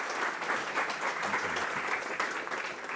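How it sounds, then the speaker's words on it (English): Lecture audience applauding a professor speaking on health benefits of climate action; moderately quiet, continuous clapping from a medium-sized crowd in a hall, without voices. "can we have a round of applause for Andy"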